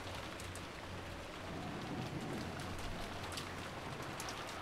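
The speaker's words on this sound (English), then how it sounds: "the sound of the downpouring rain focused their concern on the mystery guest" Heavy downpour falls in Umineko no Naku Koro ni, a steady dense hiss of rain drumming on surfaces that holds evenly throughout at moderate volume.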